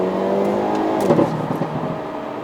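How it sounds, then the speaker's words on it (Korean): A Hyundai Avante N with a DCT gearbox cruises at about 80 km/h, its engine giving a loud, steady drone with a brief crackle or burble midway, heard from inside the car. "현재 속도가 80km 정도인데, 이 정도에서도 굉장히 요란스러운 소리를 발산시켜요."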